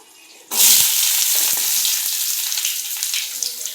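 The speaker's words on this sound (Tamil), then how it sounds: "வரமிளகா பொரிஞ்சதும்" Dried red chilies hit hot oil in a kadai with a sudden, loud sizzle that keeps up a dense, steady hiss, broken by a few faint stirring clicks.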